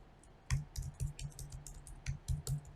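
Computer keyboard typing, a quick irregular run of close, crisp key clicks with brief pauses between bursts and no talking.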